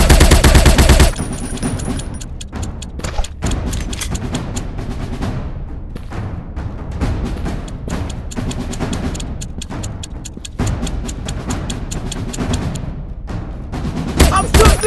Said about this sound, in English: Suppressive fire on target! I'm shooting these fools up!